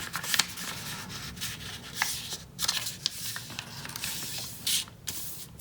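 Paper being creased along fold lines for a flower fortune teller, heard as soft rubbing and brushing strokes with a few sharper crisp scrapes, close and quiet, no voices.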